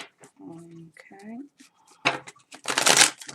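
Crisp riffling and clattering of tarot cards being shuffled, building to a loud dense burst near the end, with a voice speaking briefly before it.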